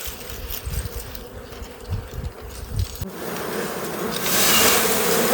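Honey bees swarming at a wild hive tucked under a large rock, a steady dense buzzing that rises and grows louder and closer over several seconds, with no one speaking.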